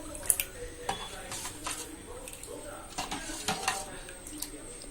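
Turmeric powder being stirred into a coconut rice mixture in a pot: soft scraping and clinking of a spoon against the vessel, faint and irregular, over a light background hiss.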